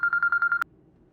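A mobile phone rings with an incoming call in a Pakistani TV drama scene: a quick run of six evenly spaced electronic beeps, clear and close, cut off abruptly by a sharp click.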